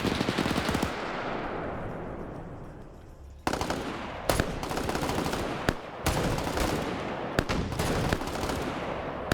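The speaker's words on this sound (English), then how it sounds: "I do see HE shells firing" HE shells firing in a Rhodesia campaign video game, rapid bursts of gunfire with sharp impacts, loud and close, coming in several separate volleys across the clip.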